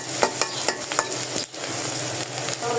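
Onion salted in hot oil for a pangas fish dish fries with a loud, steady sizzle while a spatula stirs in a quick series of rhythmic scrapes and taps, close and alone.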